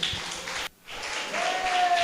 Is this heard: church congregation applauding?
yes